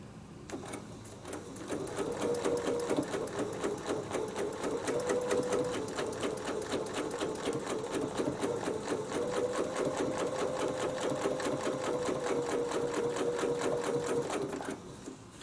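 A sewing machine stitches a Westalee snowflake quilt design on a quilt sandwich, a steady, loud run of rapid needle strokes lasting about twelve seconds after a brief quieter start, then stopping.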